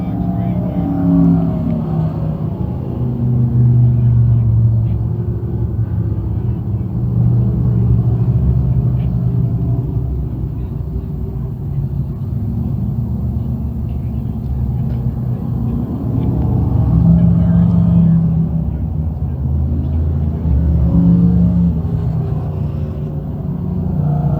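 Vintage race cars rumble around the Can Am Speedway oval during a caution lap, a steady mid-distance engine drone that swells and fades as the cars circle, heard under continuous talk from an announcer.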